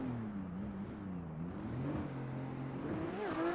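Bright yellow BMW drift car launching its first qualifying run at VDC 2025 Round 2 in Pittsburgh, a moderately distant engine revving and wavering in pitch, rising toward the end.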